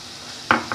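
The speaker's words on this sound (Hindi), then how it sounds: "अब मैं इसमें पाउडर मिल्क शामिल करके इसे मिक्स करूँगी" A spoon scrapes and knocks twice against a pan while powdered milk is stirred into thick halwa: one sharp close clatter, then a lighter second tap, with no voices.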